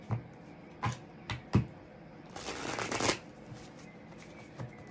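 Tarot cards being shuffled by hand: several quick, soft riffling bursts, then a longer, louder cascade of cards, followed by a few faint taps, close and quiet with no talk.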